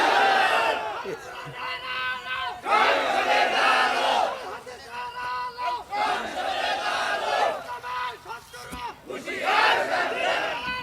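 A large crowd at a Bengali Islamic religious sermon roars its takbir response in repeated loud surges, mass shouting in about four waves separated by short pauses, close and forceful, with a leader's voice between.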